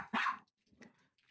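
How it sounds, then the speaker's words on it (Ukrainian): A small dog gives one sharp bark close by, followed by a softer second yip or bark in a quiet room. A faint third sound starts just as the clip ends. "вибачте, помічниця побігла гавкати."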